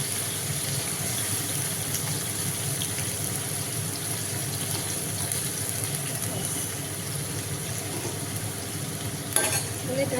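Elephant foot yam stalks fry in oil with dry red chilli and nigella seeds, giving a steady, dense sizzle throughout, with a brief scrape of stirring near the end.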